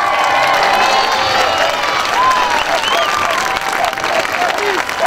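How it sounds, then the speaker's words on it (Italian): Audience applause with cheering at a Corritalia 2017 festival performance in Turin, a dense, loud wash of clapping and crowd voices sustained throughout, with whistles and shouts rising over it. "Grande, grande, forte l'applauso!"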